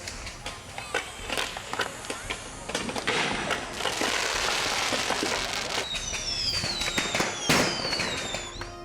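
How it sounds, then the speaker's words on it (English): Fireworks and firecrackers burst over a staged naval battle show as an enemy island base is bombarded, a dense run of loud crackling explosions with whistling rockets rising near the end. "the enemy base is bombarded with a spectacular array of fireworks"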